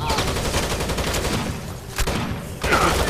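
Light machine gun firing from a gun emplacement in the video game Rainbow Six Vegas 2, loud sustained bursts with rapid repeated shots and a brief pause before firing resumes.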